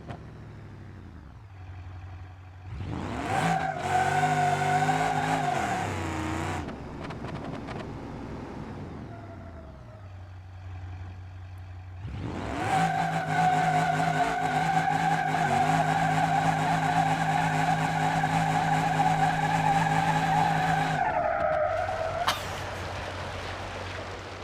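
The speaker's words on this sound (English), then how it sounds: "It doesn't like doing burnouts for distance." A Crusher Moonhawk car in BeamNG.Drive does burnouts with loud, sustained tire squeal and a revving engine, with wheel hop. The sound comes in two long bursts with a short lull between them.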